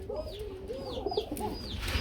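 Black Sirazi pigeons at a pigeon farm coo in soft, rolling, repeated calls, close and steady throughout, with a few brief higher chirps on top and no talking.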